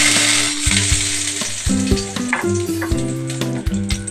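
Nigella seeds (black cumin) sizzle and crackle steadily in hot oil, with loud continuous frying hiss and occasional stirring clinks close by, alone without talk.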